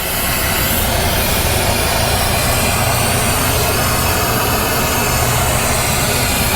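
A refrigeration rack compressor runs with a loud, steady drone and a broad mechanical hiss that stays even throughout, with no talking.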